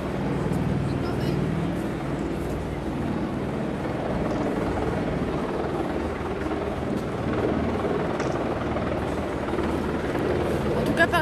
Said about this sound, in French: On entend un hélicoptère voler.